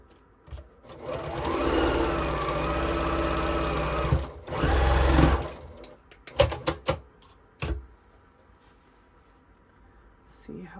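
Sewing machine stitching a curved quilt heart block, a steady fast mechanical whirr for a few seconds, a brief pause, a second short run, then scattered clicks and fabric handling.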